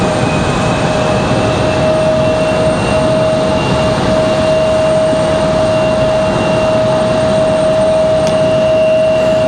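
Delta jet airliner turning right at Raleigh-Durham airport, a loud steady jet engine roar with a sustained high whine running throughout.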